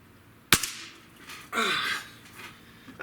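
A Diana 54 Airking Pro air rifle fires a single sharp, loud shot with a quick decaying ring, followed about a second later by a brief rushing noise.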